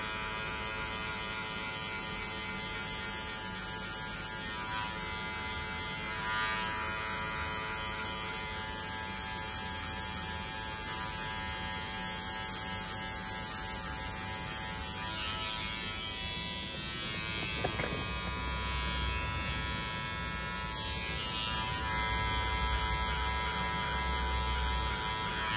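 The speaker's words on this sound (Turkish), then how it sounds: "Makineyi hafif yukarı doğru kaldırarak yapıyoruz bu işlemi" An electric hair clipper buzzes steadily and close for a long stretch while cutting a high fade, its tone shifting slightly as the blade is tilted upward through the hair.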